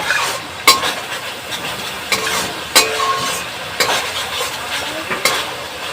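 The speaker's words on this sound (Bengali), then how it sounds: "এইটাকে একটু ভাজা ভাজা করে নিতে হবে," Taro roots fry in oil in a pan while a spatula stirs them, sharp scraping clacks repeating every second or so over a continuous low sizzle, close up with no voices.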